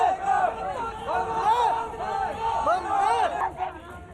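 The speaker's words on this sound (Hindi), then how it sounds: "शहीद को श्रद्धांजलि देने सैकड़ों लोगों की भीड़ जुटी" Crowd of hundreds gathered on a packed road outside a martyr's home to pay tribute, with a dense, continuous murmur of many voices and some raised calls throughout.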